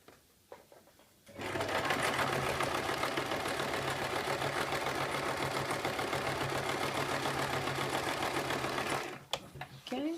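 A sewing machine back tacks a circle skirt seam in one steady run of fast, even stitching lasting several seconds, close by, with brief handling noises before and after.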